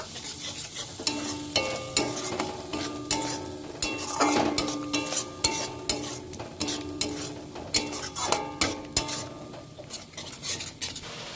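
Spiced pointed gourd, potato and soya chunks being sautéed with whisked yogurt in a pan, a spoon scraping and clinking against the pan in uneven strokes over a soft, constant sizzle, close up with no voices.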